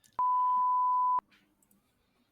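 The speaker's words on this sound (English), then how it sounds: "you got to beep all that" A single steady censor beep, a pure tone lasting about a second, loud and alone, followed by faint background noise.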